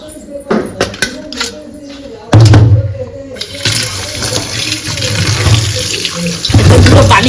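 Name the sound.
tap water washing taro stolons (kochur gati) in sink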